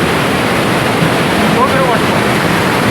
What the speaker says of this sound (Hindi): वाटरफॉल अपने ऑलमोस्ट क्रॉस कर दिया है